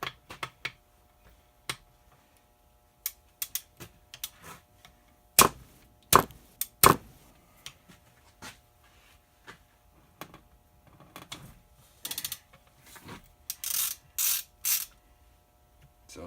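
A ratchet wrench loosens bolts on an NP 205 transfer case, giving sharp scattered clicks and clacks of varying loudness, with a few quick ratcheting runs near the end, close up with no talk.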